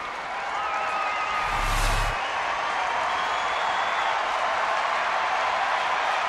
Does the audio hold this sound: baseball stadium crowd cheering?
yes